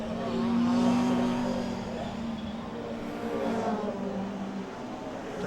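Pre-1983 classic touring cars, including an Alfa Romeo and a Ford Capri, race at Cadwell Park, their engines droning steadily from a distance with a faint tonal whine rising early on and fading.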